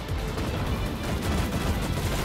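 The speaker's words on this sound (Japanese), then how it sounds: "ただ銃声近い" Dense gunfire crackles close by in the World War II shooter game Enlisted, a continuous burst of overlapping shots at steady volume with no speech.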